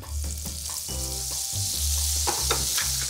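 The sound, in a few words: oil and butter sizzling in a hot frying pan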